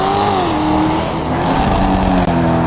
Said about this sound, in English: this in-game high quality sound, which I think is the Corvette, if I'm not mistaken. Definitely sounds like an American V8, not an Italian V12